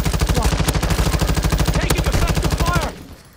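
Rapid automatic gunfire in Warzone 2, a dense, steady stream of loud close shots for nearly three seconds that stops abruptly into quiet.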